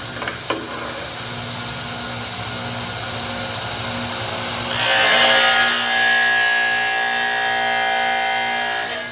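A saw set to plunge mode cuts into tile, first a steady motor hum, then a louder, harsher grinding and hissing whine as the blade bites in and keeps cutting, close and continuous with no talk.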